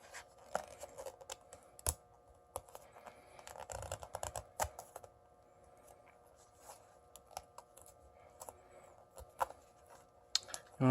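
A plastic card slices through the adhesive under the cracked glass of a Samsung Galaxy Note 5, giving quiet, close, intermittent scratching and scraping strokes.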